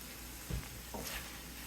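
Flour cooking in a pan like a roux, a soft steady sizzle with a couple of brief stirring scrapes, faint and close, with no voices.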